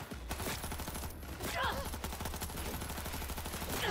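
Rapid automatic gunfire from a heavy-recoil gun in Cyberpunk rattles in a dense, loud stream of shots, with faint voices underneath.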